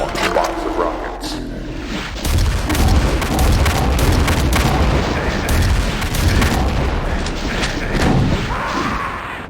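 Heavy booming rocket launcher blasts and explosions in the classic shooter Doom, loud and dense for most of the stretch after a quieter start.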